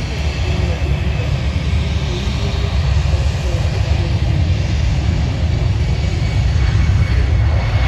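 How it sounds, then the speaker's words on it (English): An EasyJet Airbus A319 on the runway at Manchester Airport produces a loud, steady jet engine roar that stays unbroken throughout, heavy in the low end with no voices over it. "Next plane down the runway, it's an EasyJet A319."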